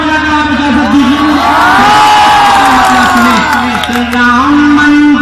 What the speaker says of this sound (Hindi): एक बार जोरदार तालियां बजाकर आप इजाजत दीजिए।